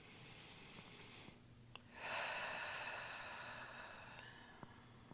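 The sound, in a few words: deep breathing during yoga in Shavasana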